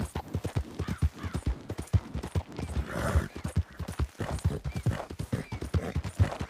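Hooves clip-clop in a steady, quick rhythm on hard ground, close by, with faint background noise throughout.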